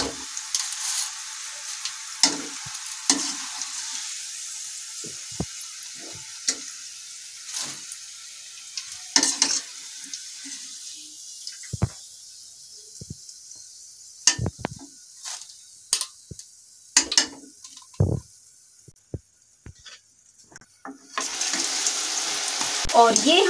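Thin banana slices fry in hot oil, giving a steady bubbling sizzle broken by scraping and clinks of a utensil and strainer, loud and close, with no talking.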